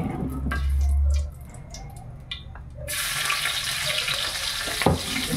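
Garlic for adobo hits a hot pan and starts frying, a steady sizzling hiss that rises after a short low rumble and continues close and fairly loud, with a clink near the end.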